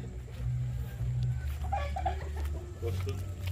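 Gamefowl chickens at a game farm cluck and murmur close by over a low steady hum.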